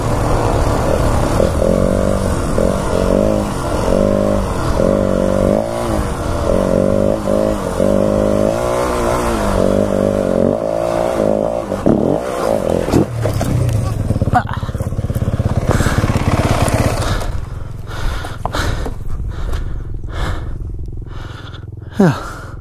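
Motorcycle riding downhill through farm ruts with the rear wheel sliding, a close engine drone with fluctuating revs and rattling, clattering thumps toward the end, heavy wind buffeting, and a rider's voice over parts of it.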